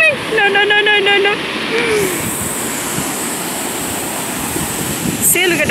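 Ocean surf rushing at the Boynton Beach inlet in Florida, a loud broad wash with wind buffeting the microphone, and a voice briefly speaking near the start and end.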